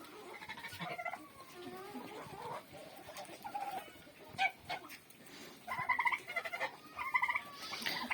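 In a backyard poultry yard, a small light-coloured rooster runs about while hens cluck in short, scattered bursts. The calls are fairly faint and come intermittently over a quiet background.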